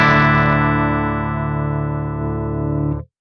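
Electric guitar through an Archetype Gojira X amp with the mids at minimum, one long distorted chord struck and held for about three seconds before cutting off, loud, close and alone.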